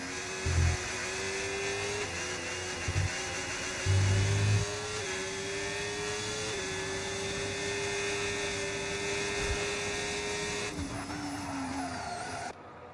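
A racing car engine in a video game drones steadily with shifting pitch, gear changes rising and falling, over a low rumble with a few brief thumps.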